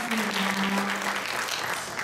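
A church congregation claps together in greeting during a Sunday service, a brief burst of dense, moderately loud applause with a faint voice near the start.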